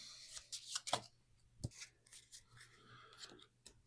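Game cards for the board game Tend are shuffled and handled on a table in a quiet room, with a series of soft, close riffling and tapping sounds.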